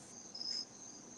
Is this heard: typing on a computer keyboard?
no